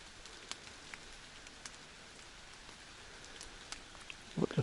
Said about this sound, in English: It's quite nice out here with the drizzle falling.